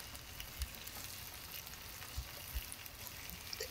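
Tomatoes laid into olive oil with a sprinkle of thyme give a faint, steady sizzle, soft and continuous, with a few small pops and no talking.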